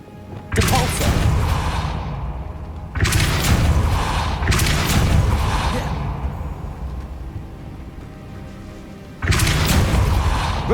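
A Depulso force spell cast in the Hogwarts Legacy video game on PC lands as a loud booming blast with a whooshing thud. Several heavy bursts come one after another, each ringing out before the next.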